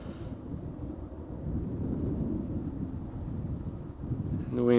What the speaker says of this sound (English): The wind still blowing from the same direction, more or less.